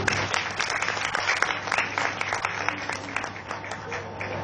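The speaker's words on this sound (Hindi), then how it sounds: "उसके लिए बहुत सारी तालियां और बहुत सारी शाबाशी।" Audience applause at a hearing and speech awareness event: steady, dense clapping from a crowd, sustained throughout at a moderate level over a low hum.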